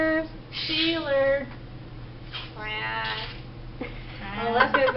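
A parrot imitates a cat's meow in a few drawn-out, harmonic mewing calls spread across several seconds, with a steady low hum underneath and people talking nearby.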